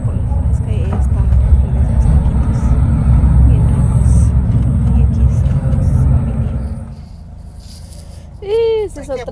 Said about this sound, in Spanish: Ese es el tráfico.